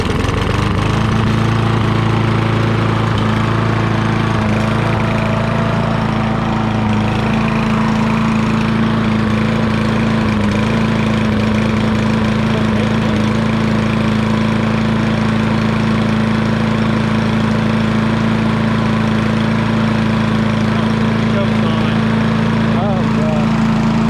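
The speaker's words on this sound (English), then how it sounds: "It ran with the choke on, pretty good actually." A Yardman push mower engine runs with the choke on, a loud, steady close-up droning putter holding an even pace for the whole stretch, with a voice talking under it in places.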